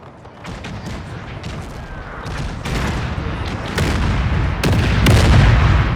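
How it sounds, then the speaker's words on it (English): Heavy artillery bombardment in Napoleon: Total War, with dense overlapping booms and volleys of gunfire that build steadily louder over several seconds under a continuous battlefield rumble. "Heavy bombardment by the enemy."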